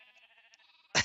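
A quavering, faint sheep bleat from the Minecraft video game, a single nasal wavering call ending in a sudden loud click or thump.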